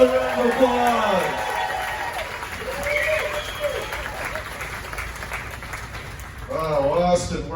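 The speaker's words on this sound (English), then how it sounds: "How about another round of applause?" Comedy club audience applause in Austin, a moderate wash of clapping and crowd noise running beneath a voice talking over it, swelling again briefly toward the end.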